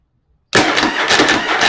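A Yamaha Virago XV750 motorcycle engine cranks briefly and catches, running loud and close with a broad, steady roar after a short silence.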